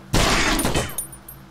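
A short, loud burst of rapid gunfire in the Conscript game hits hard up front, then trails off into scattered fainter cracks and echoing decay within about a second and a half.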